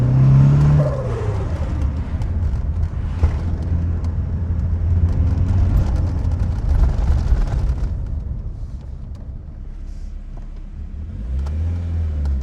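A classic car with a freshly rebuilt forged engine drives past close by, a loud engine roar that revs up at the start, holds a rough steady drone, then fades somewhat with brief revs near the end.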